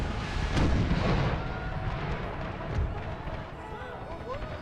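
Howitzer artillery booming on a Total War battlefield, with deep blasts and rumbling gunfire under a busy battle din, and someone talking over it.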